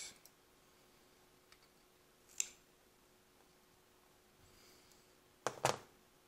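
Side cutters snipping 26-gauge Kanthal coil wire leads on a rebuildable dual-coil atomizer: a quiet room with a faint tick, one crisp snip, then a quick cluster of sharp clicks near the end.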